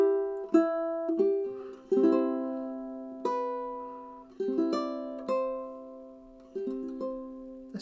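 Ukulele chord melody phrase from a song, plucked notes and strummed chords ringing out in a slow, unhurried sequence, each attack decaying before the next, played alone and fairly quiet.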